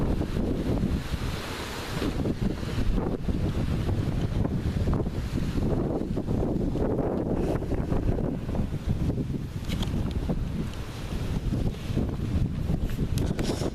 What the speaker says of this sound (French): le vent gagne en puissance